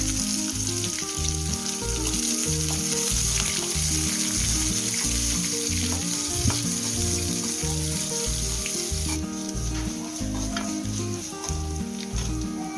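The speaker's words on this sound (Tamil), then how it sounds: "கருவேப்பிலை எல்லாம் போட்டு வதக்க போகிறேன்." Onions, shallots, crushed garlic and curry leaves fry in hot oil for a fish curry, making a constant bright sizzle beneath looping background music.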